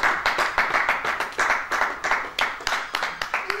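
A church congregation applauds the Lord in rhythmic, steady clapping, many hands beating together in a fast regular pulse, loud and close, with faint voices underneath.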